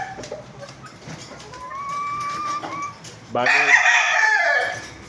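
Asil and Sweater gamefowl, among them a long-bodied 5K Sweater, with one rooster's crow ringing out loud and near in the second half, preceded by quieter clucking, someone talking throughout.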